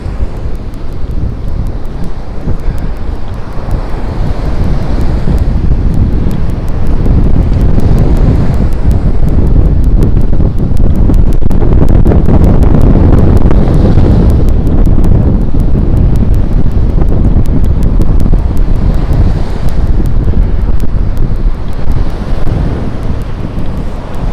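Strong surf pounds a shoreline on a windy day, a continuous loud roar of crashing waves mixed with heavy wind buffeting, steady and dense throughout with no voices.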